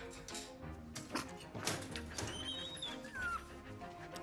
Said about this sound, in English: That's the dog that he gave her?